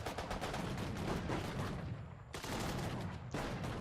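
Gunfire from units in the Sudden Strike 4 strategy game, Dunkirk campaign: dense continuous rattling volleys of small-arms and machine-gun fire, loud and sustained with brief dips.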